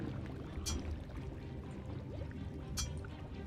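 A bubbling tar pit in a cave in the 2014 Shadowgate remake video game: a continuous thick liquid gurgle with a few soft pops and two brief, brighter bursts.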